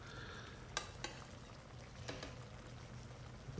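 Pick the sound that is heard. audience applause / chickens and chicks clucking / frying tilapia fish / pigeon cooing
frying tilapia fish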